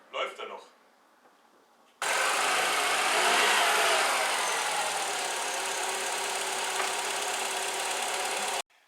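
A VW Passat 35i with the 2.0-litre 2E petrol engine, just after a timing belt replacement, cranks and catches, then runs steadily at a loud, even idle for about six seconds before cutting off abruptly.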